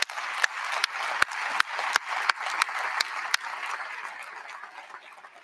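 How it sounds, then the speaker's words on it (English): A commencement ceremony crowd claps, led by a few sharp, distinct claps over a broad wash of applause that thins and fades toward the end. "let's give them all a round of applause"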